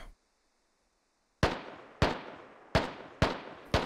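Gunfire in the military shooter game Squad: after a silent pause, five sharp single shots crack at a steady interval of about half a second, each with a short echoing tail.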